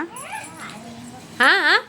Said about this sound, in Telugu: ఆడి మీద మొరుగుతుంది ఇది